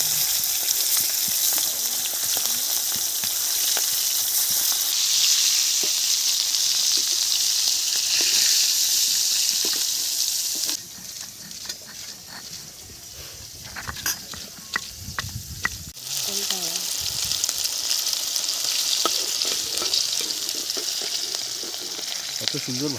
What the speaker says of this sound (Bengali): কত সুন্দর ভাজা হয়েছে দেখুন খুব পিসটা।